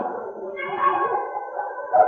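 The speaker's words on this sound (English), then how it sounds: "That's a dog?" A single dog gives a drawn-out, howling bark, close and fairly loud.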